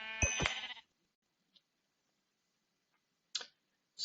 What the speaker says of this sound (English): I'm hearing sheeps up here.